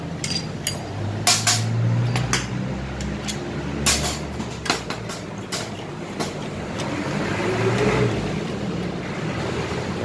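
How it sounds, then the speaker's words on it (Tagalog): Road traffic passes near an oxy-acetylene gas torch welding lesson, with a low rumble of vehicles going by, clicks and clatters scattered over it, and some voice in the mix. "marami lang kasing sasakyan na dumadaan"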